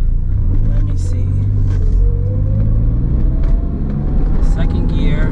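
A Suzuki Cappuccino accelerates on a road in second gear, its engine rumbling loud and close from inside the cabin, with rising engine tone and a person speaking over it.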